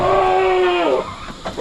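A single goat on a farm lets out one loud, close, drawn-out bleat that wavers and drops in pitch at the end, followed by quieter rustling.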